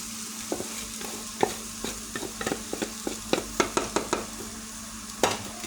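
A spatula scrapes and taps repeatedly as rice is stirred into chicken fried rice in a hot pan, irregular clicks over a soft sizzle, close and without speech.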